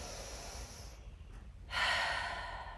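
During a hip and hamstring mobility exercise, a slow breath is drawn in and then released as a strong, close exhale that hisses out and fades, with no talking.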